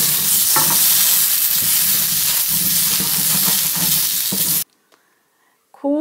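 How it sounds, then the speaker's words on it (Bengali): Jujube chutney with chili powder sizzling loudly in a pan, with steady stirring scrapes over a continuous frying hiss that cuts off abruptly near the end. "খুব ভালোভাবে আমি এটা আবার একটু তিন থেকে চার মিনিট ভাজা ভাজা করে নিচ্ছি"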